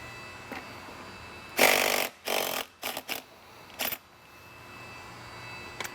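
Impact wrench with a holding tool breaking loose a 30mm center clutch nut on a motorcycle, several short loud rattling bursts in quick succession against a quiet workshop background.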